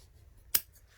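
A single crisp snip of scissors cutting through bag-making material, close and brief against a quiet low hum.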